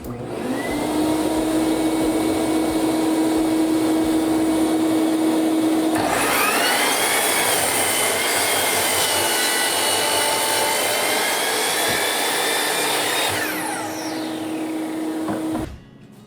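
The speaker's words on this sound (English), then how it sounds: "So now I'm just going to trim the back edge square." Power saw trimming the back edge of a wood drawer board: a loud, steady motor whine that deepens as the blade bites into the wood for several seconds, then rises again and cuts off.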